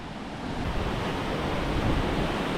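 Water of the Nivica stream rushing below a waterfall, a dense, steady close-up roar and wash without pause.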